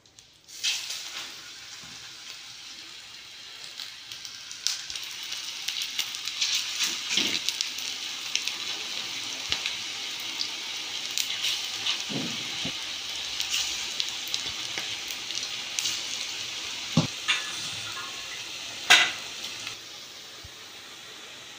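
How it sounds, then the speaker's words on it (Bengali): Cabbage pakoras deep-frying in hot white oil in a kadai, a steady bubbling sizzle that builds gently, with occasional sharper pops and clinks scattered throughout. "তেল গরম হয়েছে। এগুলো আমি ভেজে নেবো এক এক করে।"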